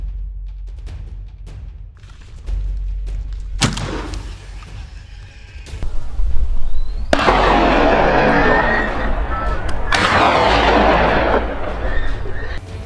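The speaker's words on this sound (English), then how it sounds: "Quickly regaining focus, I pulled the trigger repeatedly." Gunfire rings out during a wild boar hunt, with sharp reports spaced a few seconds apart, loud and close, followed by sustained rough noise that continues between shots.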